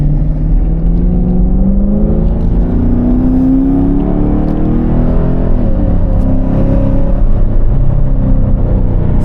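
A 2018 Chevrolet Camaro 1SS with its LT V8 revs in manual mode, the deep exhaust rumble holding loud and steady. The pitch rises and falls across one long pull.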